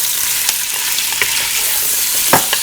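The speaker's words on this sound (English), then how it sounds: "we're going to take the pepper and onion, throw those right in. Stir those up until those" Pepper and onion stirred into browned sausage in a frying pan, a steady bright sizzle with a few sharp scraping clicks of the spoon, loudest near the end, with no talking.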